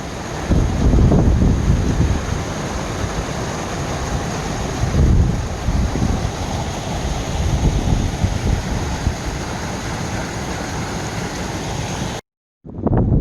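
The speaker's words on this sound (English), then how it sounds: "Freaking cold and windy, big gusts." Loud gusting wind buffets the microphone in heavy roaring bursts on a cold mountain trail near the Lakes of the Clouds, surging and easing continuously, with a brief silent dropout near the end.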